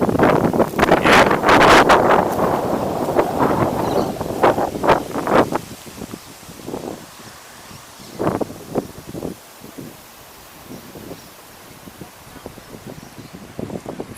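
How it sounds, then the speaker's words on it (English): Outdoor wind buffets a camera microphone in heavy, roaring gusts at first, then eases into quieter, intermittent puffs and rustles. "it is quite windy out here, so it will give you a good sense of the wind noise"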